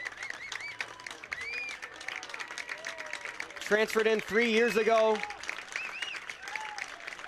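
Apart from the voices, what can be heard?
crowd applauding soccer player Ian Arends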